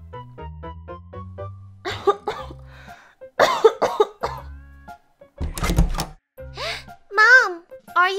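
A woman in an animated cartoon coughs in several short, loud bursts amid other cartoon voices and effects, with someone speaking nearby.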